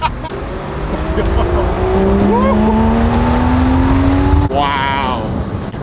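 A supercar's engine pulls hard and loud from close by, its pitch climbing steadily with a whining tone, then a gear change just before the end and the revs rise again.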